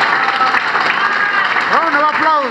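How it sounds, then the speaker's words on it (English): Applause fills a parliamentary hall after a formal address to the President, a dense steady clapping that runs throughout, with a voice speaking over it near the end. "Round of applause"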